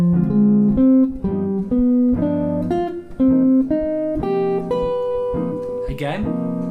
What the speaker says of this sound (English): ascend through each of these arpeggios over a minor 2-5-1